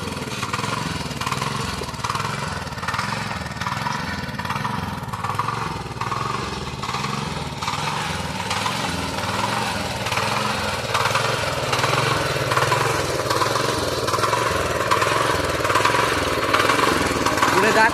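Small tractor engine running in a Konkan coconut plantation, a steady, rhythmic chugging drone at close range that builds slightly louder toward the end, with occasional voices in the background.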